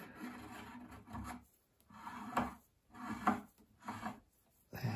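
An adjustable reamer works the chokes of Purdey shotgun barrels in short, separate scraping strokes, about six rasping pulls with quiet gaps between them, close and moderately soft.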